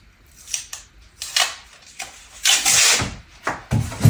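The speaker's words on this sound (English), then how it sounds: "We're gonna tape the seam of the box 3 times." Packing tape is pulled and pressed along a cardboard box seam in several uneven bursts: sharp rips, soft rubs and a longer tearing stretch, close and fairly loud.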